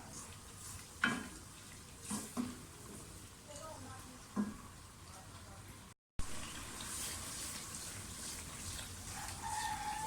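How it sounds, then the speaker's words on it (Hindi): Garlic ginger paste and spices frying in oil for mash dal, with a continuous sizzle and occasional stirring scrapes; someone talks over it and the sound cuts out briefly partway through. "अब इन सब चीज़ों को अच्छी तरह से भूनें कि इनका सबका फ्लेवर जो है वो ऑयल में अच्छी तरह से इन्हेंस हो जाए।"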